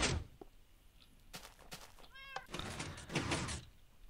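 A cat meowing in the Minecraft video game, a few short meows near a door, with some thumping clicks and blocky noises between them, fairly close and moderately loud.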